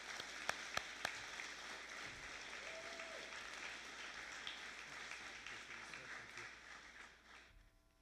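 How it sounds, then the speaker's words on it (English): Crowd applause at a fire academy graduation ceremony, steady and sustained clapping from a large audience with a few sharper individual claps near the start, fading toward the end. "Let's give Jason a round of applause"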